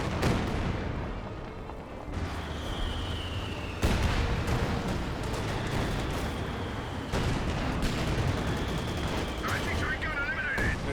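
Panther tank cannon fire in a real-time strategy video game, heavy booming shots landing every few seconds amid a dense battle din of explosions and gunfire, with commentators talking over it.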